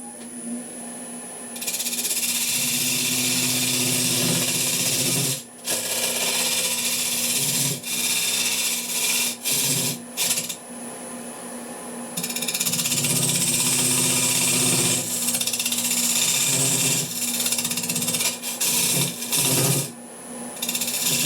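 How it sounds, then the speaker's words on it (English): A log-turned wooden vase being sanded on a lathe, giving a loud, steady abrasive hiss that runs almost the whole time, with brief dips where the sandpaper lifts off. "we're ready to sand it all down then"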